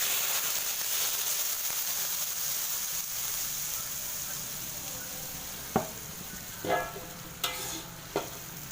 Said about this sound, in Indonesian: goreng bawang merah dan bawang putih yang telah dihaluskan tadi.